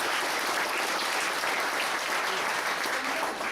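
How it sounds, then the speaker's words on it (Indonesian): A seminar audience claps together in a full, steady round of applause, continuous and fairly loud from start to finish, with faint voices beneath it. "Kasih tepuk tangan untuk diri Anda"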